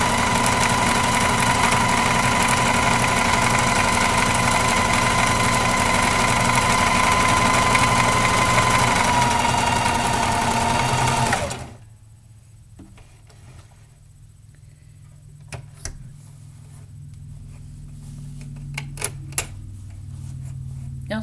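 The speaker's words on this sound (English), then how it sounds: "keep sewing forward." A Singer Heavy Duty 4452 sewing machine stitches pants in a fast, loud, steady mechanical hum that stops abruptly halfway through, leaving quiet handling noises and faint clicks.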